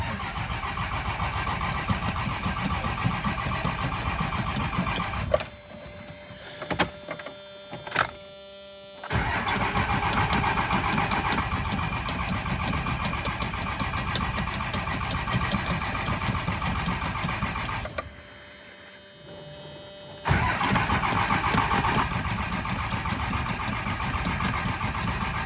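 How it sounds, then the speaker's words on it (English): Cold start of a 12-valve Cummins diesel engine, loud clattering idle running steadily, broken by two short pauses of starter and engine changes before settling back into a rough, even diesel idle. "That's a cold start, guys."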